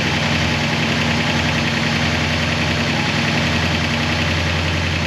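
A 1966 Oldsmobile 442 engine with an Edelbrock carburetor idles at about 1200 RPM, a loud, steady, even rumble that holds unchanged throughout with no voices.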